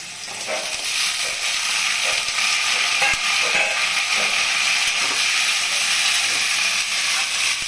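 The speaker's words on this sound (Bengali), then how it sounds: "এখন আলুগুলো দিয়ে দিচ্ছি।" Loud, steady sizzling and hissing as potatoes for alu posto hit a hot pan and fry, a dense continuous crackle with no voices.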